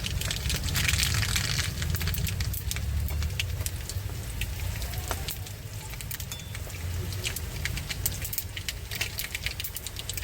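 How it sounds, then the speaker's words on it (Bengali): Whole dried red chilies and mustard seeds sizzle in hot oil in a kadai, a steady, dense crackle with scattered sharp pops, loud and close throughout, no voices. "কড়াইতে তেল দিয়ে দিয়েছি এখন দিয়ে দিচ্ছি গোটা শুকনো লঙ্কা এবার দিয়ে দেবো সর্ষে"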